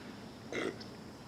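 A single short, throaty burp after a sip of Hi-10 double IPA beer, close and distinct against a quiet room, followed by a brief trailing gulp.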